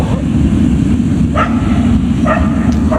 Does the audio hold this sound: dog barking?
yes